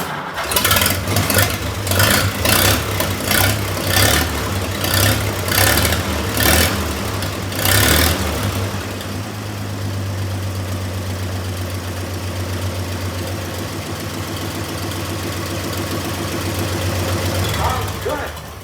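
A 1926 antique car engine, not run in 75 years, cranks with rapid repeated bursts for about eight seconds, then settles into a steady, loud low idle that runs alone for the remainder, rising slightly near the end.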